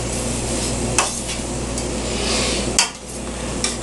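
An almond flour roux is stirred in a frying pan for shrimp Marsala, with a continuous sizzle and the scrape of a utensil, plus a few sharp knocks against the pan, heard up close and without speech.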